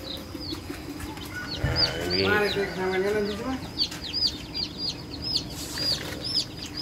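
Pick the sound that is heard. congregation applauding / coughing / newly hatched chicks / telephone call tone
newly hatched chicks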